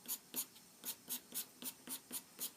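Orange pencil marking over chalk pastel, a quiet rhythmic scratching of about ten even, short strokes at a steady pace, close up and with no talk.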